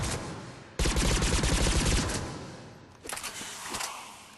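Geth Pulse Rifle fire in Mass Effect 3 comes in a dense, loud burst of rapid shots lasting over a second, then trails off, followed by a shorter, quieter burst.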